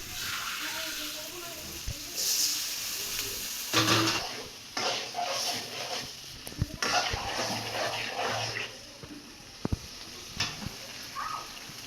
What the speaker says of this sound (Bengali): শুকনো মরিচের গুঁড়া হলুদ গুঁড়া মশলা গুঁড়া আদা বাটা তারপর এগুলো একটু কষানো হবে